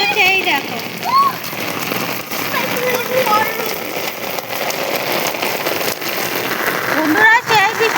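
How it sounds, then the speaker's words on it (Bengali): Heavy rain pours down in a dense, continuous hiss that stays loud throughout, with a few faint voices breaking through underneath. "প্রচুর বৃষ্টি হচ্ছে"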